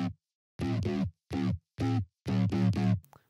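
Synth bass for a house track, squashed by OTT multiband compression in Serum's effects rack, plays in short punchy bursts with gaps between, thick and gritty, alone with no talking.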